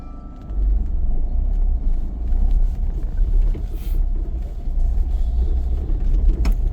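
Car driving straight ahead during a beginner driving lesson, a steady close rumble of engine and tires that stays continuous and fairly loud throughout.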